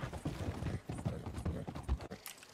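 Horse hooves clip-clop in a video game hunting match, a steady quick trot heard close and fairly loud for most of the stretch, fading out near the end.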